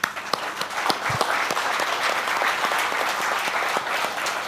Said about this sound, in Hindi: आई वॉन्ट तालियां ऑन दिस